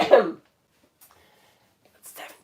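A single short, throaty cough bursts out close by, followed by quiet and then a faint breathy exhale.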